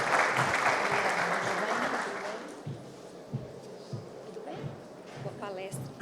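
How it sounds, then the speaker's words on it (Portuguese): An audience at a technical talk applauds a process engineer as she is welcomed to the stage. Dense, loud clapping fills the first two seconds and then thins into scattered claps, with a voice speaking over it. "uma salva de palmas"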